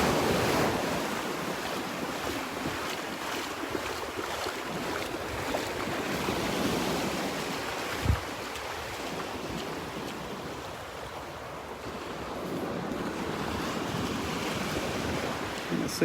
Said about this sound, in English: I'll get out of where these waves are breaking so I can breathe.